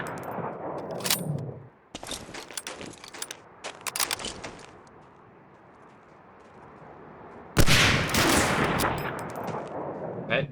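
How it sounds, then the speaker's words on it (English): Gunfire in the shooter Medal of Honor Warchest: sharp rifle cracks and short bursts in clusters, a quiet lull in the middle, then a loud dense volley toward the end. "Shoot me with the sniper, I shoot you."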